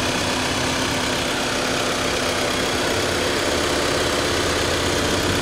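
A 2015 Volkswagen Jetta 2.0L TDI turbo diesel engine idles close by, a smooth, steady, loud rumble with no change in rhythm and no talking.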